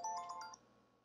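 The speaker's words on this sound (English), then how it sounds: "I just got a call since I'm wiring this in from my phone" Electronic phone ringtone for an incoming call, a short repeating series of bright chime tones lasting about half a second before cutting off, moderately faint and heard alone.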